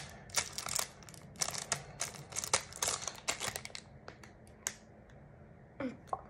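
Scissors cutting into a food item, heard as a close series of sharp snipping clicks in irregular bursts, quiet and alone.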